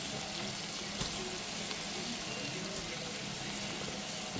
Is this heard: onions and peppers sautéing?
yes